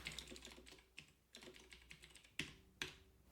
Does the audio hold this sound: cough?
no